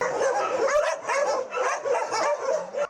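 Many dogs bark, yip and whimper at once in a continuous, overlapping chorus, loud and close, at an animal shelter housing about 450 dogs.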